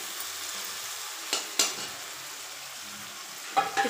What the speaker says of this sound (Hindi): हमारा प्याज लाल हो चुका है, तो उसमें डालेंगे हम टमाटर। अच्छे से इसको भूनेंगे